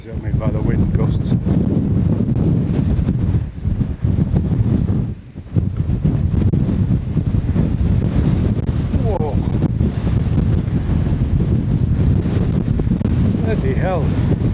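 Strong wind gusts on Pendle Hill roar continuously and loudly against the microphone in heavy, close buffeting, easing briefly for a moment midway before surging straight back for the rest of the stretch.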